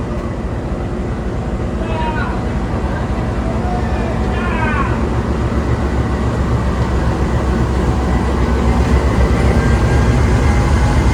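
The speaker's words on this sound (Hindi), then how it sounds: "चलिए जी, ट्रेन चलना शुरू" The Khushal Khan Khattak Express pulls away from Karachi Cantt station, a loud continuous low rumble of the train gradually building, with faint squeals near the start and no one speaking.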